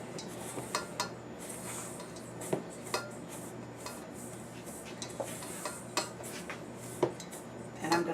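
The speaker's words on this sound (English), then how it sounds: "I mix my dry ingredients in 1 bowl and all of my wet ingredients in another." Cornbread batter ingredients, including a beaten egg, are stirred in a bowl, with a utensil clinking and scraping against the sides in a steady run of light taps and scrapes, close and fairly quiet, with no talking.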